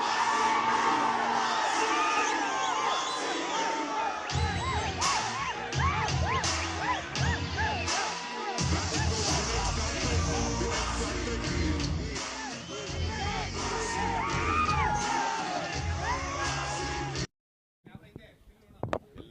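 A dense crowd cheers, whoops and shouts steadily for the RCB cricket players at their felicitation in front of Vidhana Soudha, the noise loud and continuous with shifting swells before it cuts off abruptly near the end.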